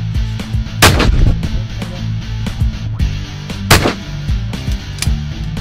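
Lincoln Premier Gold shotgun fired at a shooting school, two sharp loud blasts a few seconds apart over a low steady hum and softer knocks, with no talking.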